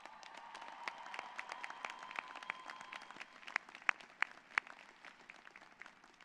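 A commencement crowd applauds graduates' families and friends with scattered, fairly distant clapping, a few sharper individual claps standing out near the end.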